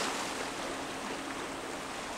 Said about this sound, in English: the waterside where waves come and go is a very scary place for chimpanzees